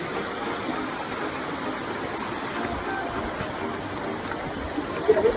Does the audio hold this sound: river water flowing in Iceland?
yes